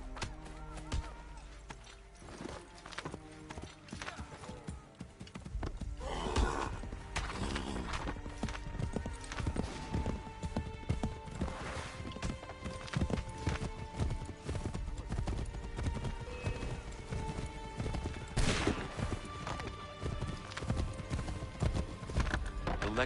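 Hoofbeats clip-clop steadily over a busy Assassin's Creed III: Remastered game soundscape with music and effects, and a horse whinnies once partway through.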